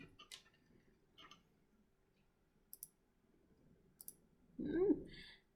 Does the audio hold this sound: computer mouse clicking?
yes